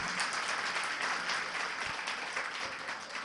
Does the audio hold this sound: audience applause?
yes